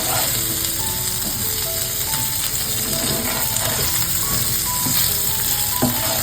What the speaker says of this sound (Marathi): इकडे एक बाजू मस्त शेकलेली आहे आता आपण पलटी मारून घेतो